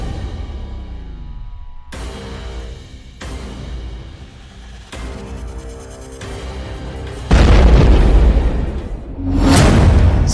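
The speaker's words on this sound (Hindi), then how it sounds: "इस कर्च ब्रिज को धमाके से उड़ाने की ज़ेलेंस्की की कोशिश की तस्वीरें" Deep booms and whooshing blasts from an explosion on the Kerch bridge in Crimea, struck by a car bomb; heavy low rumbling segments with abrupt cuts build to louder, harsher bursts near the end, with no voices.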